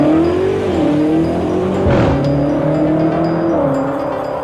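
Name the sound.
BMW M8 Competition car engine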